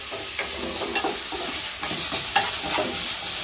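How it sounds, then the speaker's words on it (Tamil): Onions sautéing in a pan for a mutton dish, a close, steady sizzle broken by several distinct scraping stirs of a spatula at irregular intervals, with no talking. "ஆனியன் வந்து வதக்கிடலாம்."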